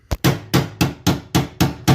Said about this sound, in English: So I'm thinking just come in here and kind of hammer that in place